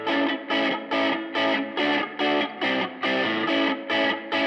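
Guitar washed in reverb strums a steady run of chords, about two per second, each with a thick distorted tone and a short decay between hits, playing alone with no voices.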